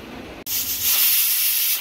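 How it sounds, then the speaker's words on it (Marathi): A pressure cooker on the stove, cooking an Agri-style shevla vegetable curry with onion and garlic, suddenly lets out a loud, steady steam hiss after a brief quieter moment, and the whistle holds close and strong to the end. "एक शिटी झाली आता बंद केला."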